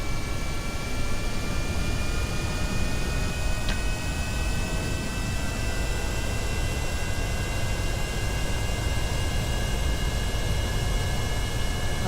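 A steady, even engine drone from an aircraft in the video game Kerbal Space Program runs unbroken at a moderate level, with faint tonal whines layered over a broad noisy hum and no talking.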